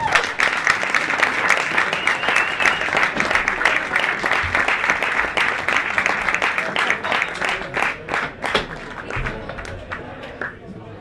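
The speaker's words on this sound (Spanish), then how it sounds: "fuerte aplauso a Ricardo Moya" An audience applauding a speaker at an event, a steady, dense roar of clapping that thins and becomes more scattered toward the end.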